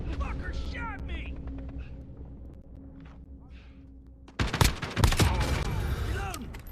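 Bursts of rapid automatic gunfire in a first-person shooter game, starting suddenly after a quieter stretch and repeating loudly with sharp cracks close by, while a voice shouts over it.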